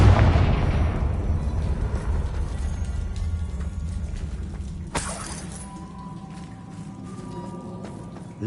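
Spell explosion in the Hogwarts Legacy video game: a loud burst that rings out and decays over several seconds, with a sharp secondary crack midway through, heard alone.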